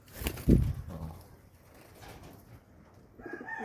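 A pigeon is released from the hand, giving a brief loud flutter of wings followed by a few softer flaps and faint rustling nearby.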